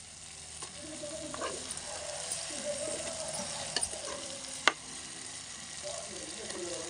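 Mutton pieces frying and being stirred in a pan over a wood-fired stove, a soft steady sizzle with scraping stirs and a few sharp clanks of the utensil, fairly quiet.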